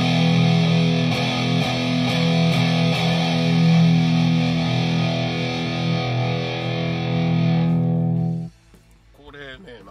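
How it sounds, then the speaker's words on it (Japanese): A Les Paul electric guitar played through distortion, with a boomy, heavy low E, rings out loud and sustained for about eight seconds and then cuts off abruptly into near silence. "このEの音の低い音がすごくブーミーなレスポールなんですよね"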